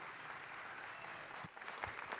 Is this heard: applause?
yes